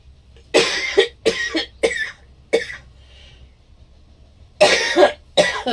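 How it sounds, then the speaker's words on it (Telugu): A series of harsh, wet coughs from a cold in short bursts, several close together, then a pause before two more fits, close and loud. "రొంప పట్టేసండి దగ్గు"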